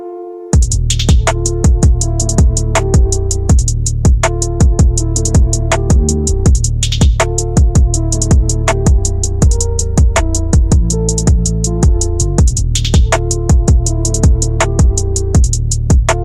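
A French rap instrumental plays loud and steady with no vocals: a repeating beat of punchy kicks and crisp hi-hats under a looping melodic line.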